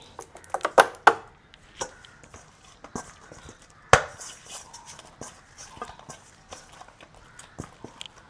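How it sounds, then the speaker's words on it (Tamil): Soft dough for a simple children's snack is slapped and beaten by hand, giving irregular sharp thumps and pats, some louder, close by. "இப்படி நல்லபடி அடித்து அடித்து குழைச்சி எடுப்பேன்"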